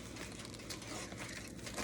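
Ziploc plastic bags crinkle and rustle steadily for a couple of seconds as they are pulled out in a home kitchen while chicken fingers are being prepared, a close, continuous papery crackle with no voices.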